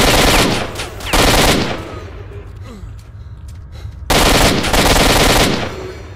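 Grenade explosions in S.T.A.L.K.E.R. Shadow of Chernobyl (2007): two loud, close, sustained roaring blasts, each lasting about two seconds, separated by a quieter stretch of lingering rumble and debris.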